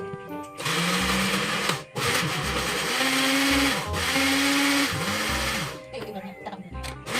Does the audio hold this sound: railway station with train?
no